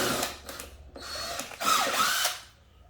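A power driver whirs in several short bursts, spinning out long T25 screws from the air filter cover on a Mercedes CLK320 with the M112 engine, close up with brief pauses between runs.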